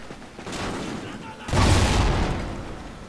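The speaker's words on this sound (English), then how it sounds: "grenade!" Grenade explosion in the Call of Duty Ghosts video game, a loud sudden blast midway through that rumbles and decays over ongoing battle noise, with a voice calling out just before it.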